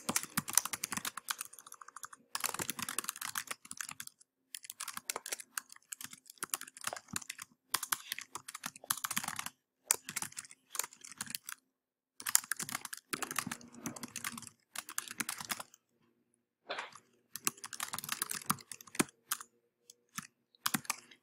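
Typing on a computer keyboard, heard as close, quiet bursts of rapid key clicks separated by short pauses, continuing throughout with no voices.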